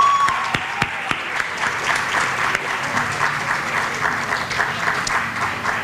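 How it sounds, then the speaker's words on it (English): Sustained applause from a school audience at the 2019 MVHS Senior Awards Night, a dense, steady clapping crowd close up with a few sharper individual claps standing out, lasting throughout without talk. "can we please get another round of applause for all the teachers"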